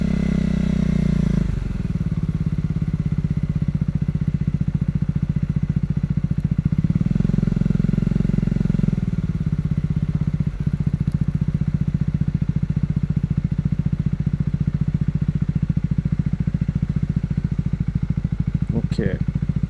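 Motorcycle engine idling and running steadily close by during a solo ride in Shimane, Japan, a continuous low rumble with a brief rev swell in the middle and no talking over it.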